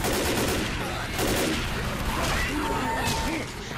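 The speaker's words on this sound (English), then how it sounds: "Automatic shotgun." An automatic shotgun fires in Left 4 Dead, loud bursts of blasts mixed with busy game noise, gunfire clustered in the first half and again near the end.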